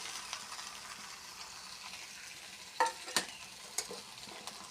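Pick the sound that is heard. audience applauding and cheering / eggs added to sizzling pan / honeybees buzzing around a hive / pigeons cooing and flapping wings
eggs added to sizzling pan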